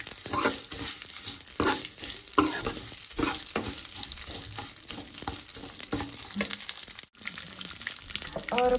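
Vermicelli (sevaiyan) and dry fruits are stirred and roasted in a pan, with a steady close sizzle and repeated scraping strokes of the spoon throughout.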